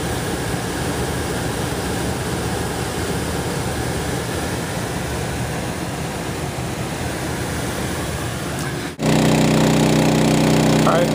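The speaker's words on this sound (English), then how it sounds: "I'm standing right at the exhaust of the generator, facing it" A Champion 2800 watt portable generator drones steadily and loudly, heard up close at its exhaust, then cuts to a different, humming mechanical tone near the end.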